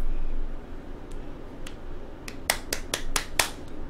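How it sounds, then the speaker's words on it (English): Sharp, separate hand claps, at first a few faint ones, then a quicker run of five or six louder claps close by over a quiet background. "Okay, clap hands."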